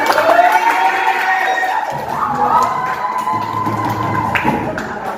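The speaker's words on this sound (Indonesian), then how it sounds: "Pintar, tepuk tangan." Schoolchildren in an Islamic school classroom cheer and shout together after a teacher's praise. Their loud, high voices ring out in overlapping bursts, with a few light claps and thumps underneath.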